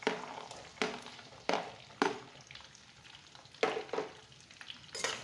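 Onion and garlic sautéing in a pan for Chettinad kuzhambu, a soft steady sizzle broken by several sharp bursts of stirring and scraping at irregular intervals, close by with no talk.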